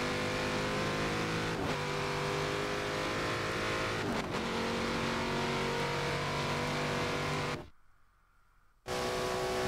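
Race cars, among them a McLaren MP4-12C, drive in a sim racing game. Engine drone runs loud and steady throughout, with a couple of brief pass-by swells. The sound cuts to near silence for about a second before resuming.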